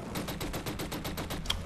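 An assault rifle fires in the shooter game Killzone Shadow Fall: a fast, even burst of roughly ten rounds in a steady automatic rhythm, moderately quiet, with no voices.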